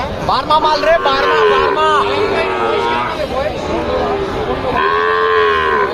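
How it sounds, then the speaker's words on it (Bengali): Cattle low and moo repeatedly amid a busy crowd at a livestock market, with people talking and chattering throughout in a noisy, close setting. "এটা গরু"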